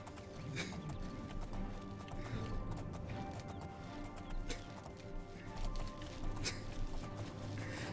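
Horse hooves clip-clop in the video game Oblivion as a fairly faint, uneven series of thuds beneath game ambience. A few sharper clacks and some brief voice-like sounds mix in.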